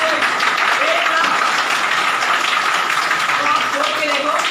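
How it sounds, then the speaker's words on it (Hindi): An audience in a hall applauds at a company business presentation, a continuous wash of clapping lasting several seconds with voices mixed in. "एक बार ताली जाके दिखाओ"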